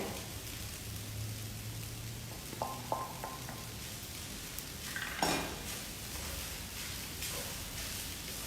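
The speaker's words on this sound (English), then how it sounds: "And then we're gonna fold the egg in." Egg folded into veggie fried rice in a hot pan, a quiet steady sizzle with a few sharp clinks and scrapes of a utensil against the pan, close and without speech.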